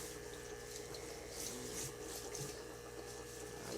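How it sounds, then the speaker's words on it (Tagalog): Water running steadily from a tap as a kitchen sink is washed out, a quiet continuous splashing rush with slight swells, nobody speaking. "nililinis na ni Kylie yung lababo"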